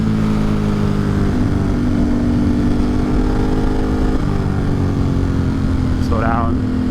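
A motorcycle engine pulls steadily in fourth gear along a forest road, a loud continuous drone throughout with faint bird chirps near the end.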